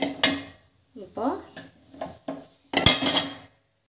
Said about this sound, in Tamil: எள்ளு வந்து நல்லா வறுத்து எடுத்துக்கலாம்